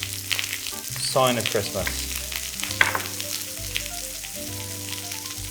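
Brussels sprouts frying in a pan as a leafy clementine is dropped in, with a steady hiss and crackle of sizzling and a brief stirring clatter. Someone talks over it, alongside a low background tone.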